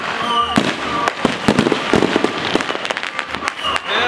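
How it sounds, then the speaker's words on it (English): Fourth of July fireworks in Los Angeles crackle and bang in a rapid, irregular string of sharp pops and bursts, some near and loud, others farther off, with faint crowd voices underneath. "Manonood tayo ng mga fireworks."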